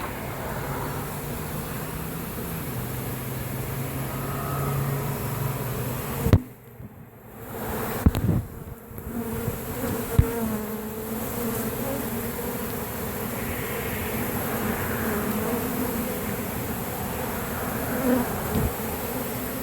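Steady, loud buzzing of a honeybee swarm around a hive in a tree in Orlando, Florida, a dense continuous drone broken by a few brief handling bumps midway.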